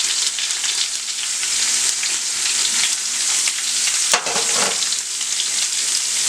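Onions and garlic fry in a pot for an oxtail stew, giving a loud, steady sizzle throughout with a brief stirring scrape partway through.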